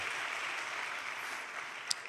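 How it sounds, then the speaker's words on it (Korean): A church congregation applauds new members at a confirmation service, a soft, distant, even patter of clapping with one brief sharper sound near the end. "박수로 격려해 주시죠"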